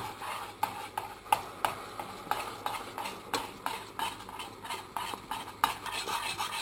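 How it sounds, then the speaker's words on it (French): A spoon stirs hot caramel being loosened with warm crème fraîche in a pan, regular scraping strokes clicking against the pan about twice a second over a soft bubbling hiss, close and steady with no talking. "Je décuis le caramel avec la crème fraîche chaude"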